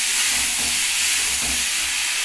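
Pieces of eggplant sizzle in hot oil while they are stir-fried into a spicy bhola fish curry, making a steady close hiss with no talking.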